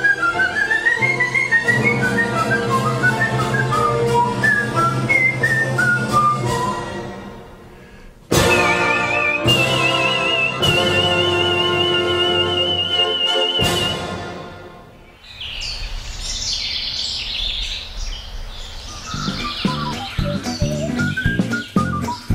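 A skilled solo whistler performs a melodic tune, bright sustained whistled notes and quick runs carrying steadily for about fifteen seconds over a faint backing, then shifting into fluttering, birdlike trills and chirps near the end.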